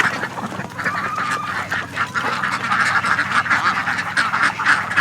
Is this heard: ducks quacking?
yes